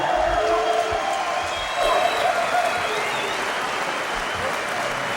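Crowd at a boxing match in North Dakota applauding the winner after a stoppage, a steady wash of clapping throughout with faint cheering and some voices underneath.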